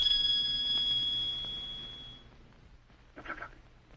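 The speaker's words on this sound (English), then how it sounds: "Not till they hear the bell." A bell rung to summon caged animals to their food rings with a sustained bright tone that slowly fades over about two seconds, leaving faint background noise and a brief soft rustle.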